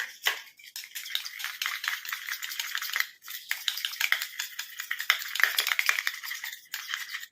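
Continuous scraping and swishing of a spoon stirring a thick mustard oil hair dye mixture in a small bowl, close and fairly quiet with an irregular rhythm and brief pauses, and no talk over it.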